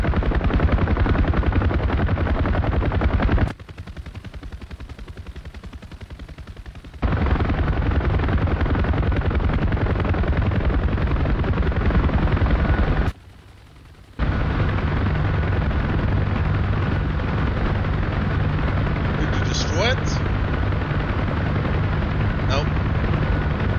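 Helicopter gunfire in the DCS flight simulator, a dense continuous rattle over a droning rotor and engine roar, loud and sustained, briefly dropping out twice before resuming.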